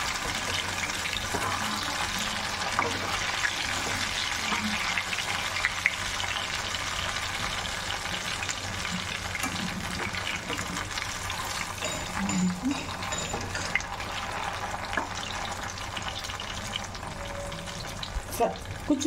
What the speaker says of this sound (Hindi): इसी तरह से हम अपने सारे गट्टे फ्राई कर लेंगे